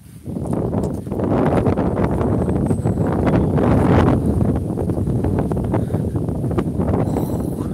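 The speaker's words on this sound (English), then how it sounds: "It's a proper windy day." Strong wind buffets the microphone in a constant low rumbling roar, with gusts rising and falling throughout.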